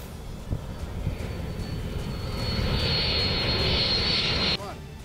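An Indian Air Force fighter jet, a MiG-29 or Sukhoi Su-30MKI, roars past in flight: a broad engine rumble swells with a rising high whine over several seconds, then cuts off abruptly near the end.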